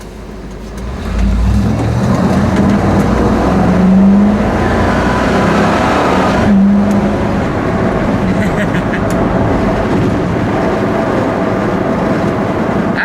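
A stock vehicle engine straining under load while driving, as a continuous loud, rumbling drone that rises slightly and then holds steady for the whole stretch.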